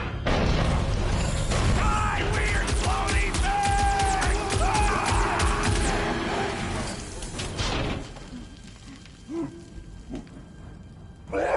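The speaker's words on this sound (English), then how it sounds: "It's a swarm of old cleaner bots." A swarm of old cleaner bots in the Guardians of the Galaxy video game, a loud dense clatter of mechanical chittering and whirring for several seconds that drops away into quieter ambience with a few faint clicks.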